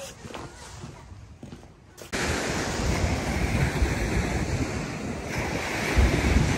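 Surf rolls onto the Golden Sands beach in early spring while strong wind buffets the microphone, a dense, continuous roar that grows louder after a quieter, muffled start.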